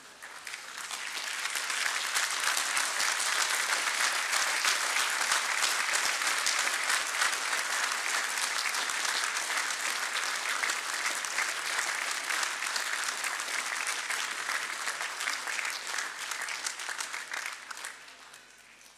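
Graduates at an engineering conferring ceremony applaud their families in a large hall: dense, sustained applause from a big crowd that swells quickly, holds steady for many seconds, then tapers off at the end.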